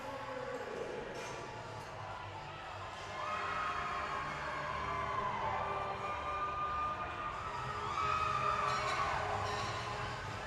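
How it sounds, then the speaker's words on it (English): Midland supporters in the stands at a collegiate powerlifting national meet roar and shout, a dense, sustained crowd din that swells louder midway and stays high to the end, with scattered whoops over the top. "we can hear Midland just getting absolutely wild in the crowd"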